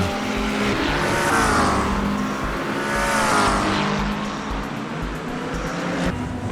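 Race cars, including a McLaren 720S GT3, roaring down a long straight at Le Mans in the iRacing video game, loud engines sweeping past in overlapping surges with rising and falling pitch.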